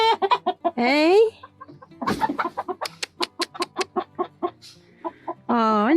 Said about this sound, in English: And there's a little black rock hen under there.